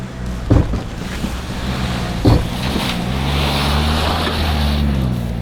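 A 4WD vehicle climbs a rock ledge in the Australian bush, its engine holding a steady, loud drone with a couple of sharp knocks and clunks as the wheels grip rock.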